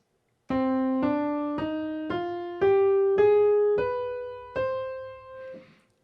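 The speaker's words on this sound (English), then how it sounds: "starting with the harmonic minor" A single melodic instrument plays a rising harmonic minor scale, eight clearly separated notes one after another, ringing and close, with no talking.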